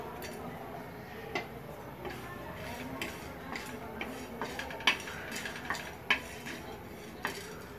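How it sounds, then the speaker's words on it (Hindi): Black pepper, cinnamon and cumin are dry roasted in a pan while a spoon stirs and scrapes, giving light clinks and ticks over a soft background. "काली मिर्च, दालचीनी, जीरा भून लेंगे"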